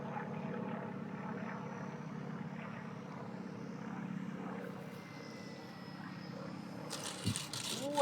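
Radio-controlled model airplane converted to four channels, its propeller droning at a steady distance as it comes in to land outdoors, ending with a brief rustle and thump.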